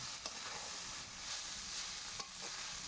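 Pasta is stirred in a pan over a wood fire outdoors, a steady faint sizzle with a few sharp scrapes of the utensil, quiet and close.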